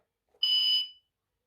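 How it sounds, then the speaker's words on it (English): A single short electronic buzzer tone, a guard-to-driver cab buzzer from a model Class 43 HST train sound system, about half a second long, high-pitched and steady, sounding alone against silence. "This should be guard to driver buzzer in cab."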